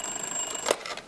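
A telephone rings on a talk-show set: a thin, steady high tone that cuts off with a click about two-thirds of the way through, faint under room noise, with no speech.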